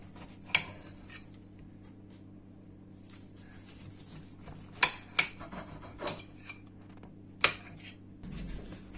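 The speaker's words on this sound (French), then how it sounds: "Et on va couper notre orange en rondelles." A knife cuts an orange into rounds on a board in a home kitchen, giving sharp clicks and taps of the blade against the board that come irregularly over soft rubbing, with no talk.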